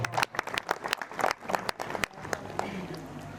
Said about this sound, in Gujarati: સહપરિવાર મળી પોતાના ગુરુ મહારાજને પગલા કરાવી દર્શનનો લાભ અપાયો તે બદલ એ પરિવારને એકવાર તાળીઓથી વધાવો